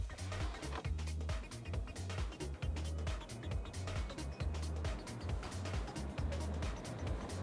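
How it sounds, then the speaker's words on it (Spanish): A Cupra Born or Hyundai Kona Electric from 2022 accelerating at full throttle from a standstill, giving a steady low road and motor rumble with a rhythmic thumping over the surface, fairly quiet inside the cabin. "Nos detenemos, pie izquierdo al freno, acelera a fondo."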